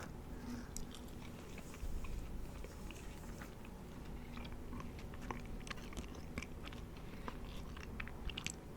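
Gum being chewed close up, with soft wet smacking and small crunchy bites ticking along steadily and quietly over a low background hum, no talking.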